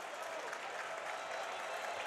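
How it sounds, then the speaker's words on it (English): The Assembly Hall basketball crowd for the Indiana Hoosiers against Iowa roars with continuous applause and cheering, a dense, loud, steady wash of noise. "The Assembly Hall crowd starts to make some noise to help will their Hoosiers back in this one."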